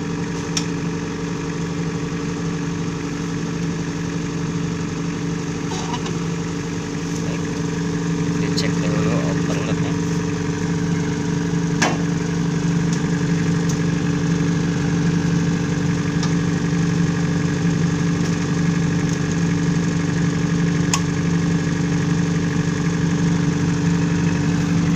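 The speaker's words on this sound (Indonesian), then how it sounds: "Ya, oke, genset hidup." A diesel generator set runs steadily at a site check, its low, even hum holding for the whole stretch with light clicks and a voice speaking briefly over it.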